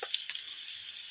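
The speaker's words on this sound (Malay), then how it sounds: "Goreng sekejap dengan api perlahan nih guys" Celery leaves frying in oil over low heat for Malaysian fried rice, a close, steady hiss with small bright crackles popping throughout, no voices.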